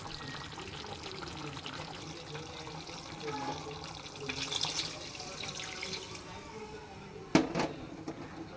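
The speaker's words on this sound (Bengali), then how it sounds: "এখন পরিমাণ মতন পানি দিয়ে দেব।" Water is poured into a pot of browned chicken curry, making a soft running splash that swells briefly midway and ends with a sharper splash near the close.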